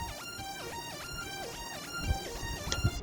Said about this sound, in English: Very screechy kind of saw wave, and it's playing a really high octave.